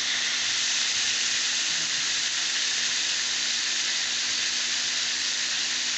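Fish sizzles in hot cooking oil, a steady, even hiss of frying that holds close and fairly loud for the whole stretch with no talking over it.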